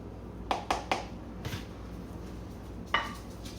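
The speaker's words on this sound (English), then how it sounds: "I'm scooping it up for tomorrow's" A spoon clinks against a dish while scooping keto bacon, Brussels sprouts and hamburger gratin, three quick metallic taps followed by a softer scrape and one more clink, close and fairly quiet.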